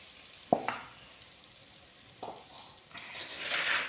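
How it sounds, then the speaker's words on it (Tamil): Hot oil is poured into mango pickle, giving a sharp clink followed by a soft sizzle that rises and builds toward the end, close and fairly quiet. "இப்போ இதை ஊறுகாயில் சேர்த்துருவோம். எண்ணெய் சூடாகவே ஊற்றுங்க"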